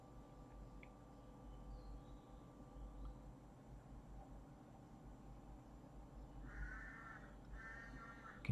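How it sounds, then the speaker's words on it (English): A crow caws outside, faint and distant, with two short bursts of cawing near the end over a steady low background hum. "Can you hear that crow outside?"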